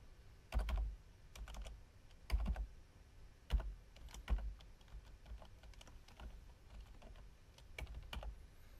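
Typing on a QWERTY computer keyboard during a Windows 10 install on an Intel NUC, with irregular bursts of close key clicks and short pauses between them, no voices.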